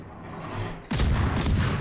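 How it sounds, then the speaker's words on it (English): Video game gunfire from a player shooting blind: after a low rumbling lead-in, a loud sustained burst of rapid shots kicks in and rattles on steadily, close and unaccompanied by talk. "Now he is blind shooting, but it looks like he's still hitting it."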